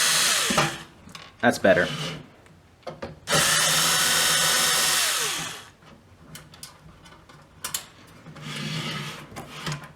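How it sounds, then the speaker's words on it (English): A power screwdriver drives screws into a camera mount in several whirring bursts, one long steady run and shorter stops and starts, close and loud, with someone talking briefly between bursts. "I don't know if I will torque these down with this screwdriver"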